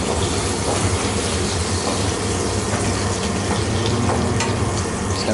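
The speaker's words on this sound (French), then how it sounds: "on fait fondre du beurre dans notre poêle" Butter melting and sizzling in a frying pan for a frog-leg recipe in a restaurant kitchen, a dense, steady, loud frying hiss that continues without pause and without any voices.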